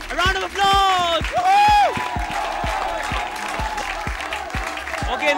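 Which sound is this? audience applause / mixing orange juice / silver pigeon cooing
audience applause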